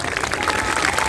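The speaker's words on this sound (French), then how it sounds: "Je vais me permettre de vous demander d'applaudir un peu la famille, notamment le papa et la maman" A French audience at a gathering honoring a slain young girl applauds the family, a brief burst of dense clapping mixed with crowd murmur at close, loud level.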